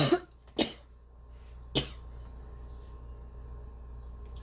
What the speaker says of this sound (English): Coughing hurts my head though.